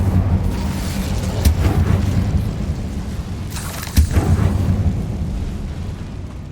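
Incendio fire spell cast in the video game Hogwarts Legacy: fiery bursts whoosh out over a low, rumbling background, with one burst early on and a sharper, louder one a few seconds later.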